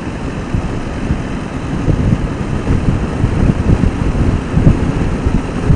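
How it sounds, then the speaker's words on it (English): Heavy wind noise roars past a motorcycle rider's helmet with the 4-inch visor extension removed from the fairing. A loud, steady buffeting rumble fills the whole clip with no break. "I'm hearing more wind noise than I normally hear."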